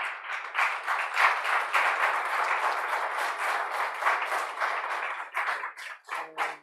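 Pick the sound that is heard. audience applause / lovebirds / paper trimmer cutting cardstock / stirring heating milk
audience applause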